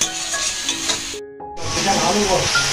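Prawns sizzle hard in hot oil in a pan, a loud close hiss with stirring scrapes that drops to near silence for a brief moment before the frying surges back.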